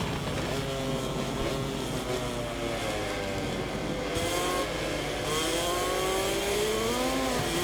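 Ducati motorcycle engines race in the MotoGP 24 video game, a continuous high-revving whine with pitch rising and falling through gear changes as several bikes scream past, loud and steady throughout.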